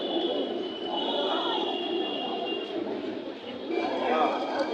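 Pigeons coo at the Hasnabad pigeon market in Bangladesh, their soft murmuring calls blending with the steady chatter of the crowd and nearby people talking.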